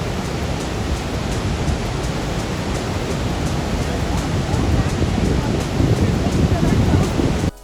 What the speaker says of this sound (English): can appreciate the sound of that roaring waterfall